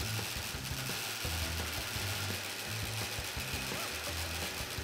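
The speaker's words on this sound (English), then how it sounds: "For our first cut here, we'll be using the Starrett hole saw and we're going to attempt a 25 degree notch." A Starrett hole saw notches a steel tube at a 25-degree angle, giving a steady, close grinding whir with a quick, rhythmic ratcheting pulse throughout.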